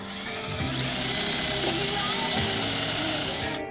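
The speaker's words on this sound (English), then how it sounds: "I need to do a pilot hole." A power drill bores a pilot hole into a 2016 BMW X1 for a trailer hitch install, a close, loud whirring drone lasting a few seconds with slight pitch shifts as the bit bites.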